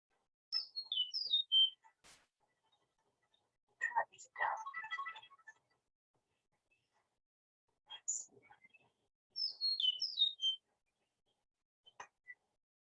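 Bright, quick bird chirps in short descending bursts near the Mississippi River, heard twice with a pause between, while people talk quietly in the gap.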